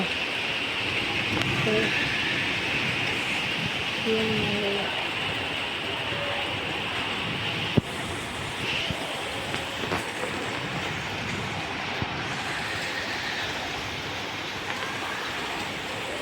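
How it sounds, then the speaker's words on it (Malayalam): Heavy rain falls outside, a steady, dense wash of noise that holds at the same loudness throughout with no break, and a few faint knocks and clicks surface above it. "പുറത്ത് നല്ല മഴയാണ് കേട്ടോ."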